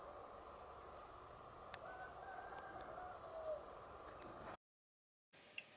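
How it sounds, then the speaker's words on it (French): A rooster crows far off in quiet summer countryside, a faint drawn-out call barely above a steady outdoor hush, briefly cut by a moment of silence. "À part au loin le chant du coq"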